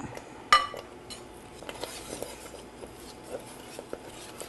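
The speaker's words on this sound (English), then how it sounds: "Just make sure you keep stirring, melt that cheese." Cheese being stirred as it melts in a pan, with a sharp clink of utensil against the pan near the start followed by soft, intermittent scraping and tapping at low volume.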